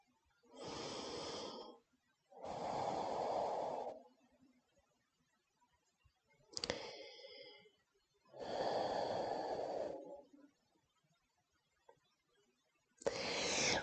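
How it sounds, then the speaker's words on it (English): Slow, deep breaths during a morning yoga stretch session, with four long airy inhale-exhale passes separated by silence, plus a couple of short sharp snorts or sniffs, close and soft. "Breathing here."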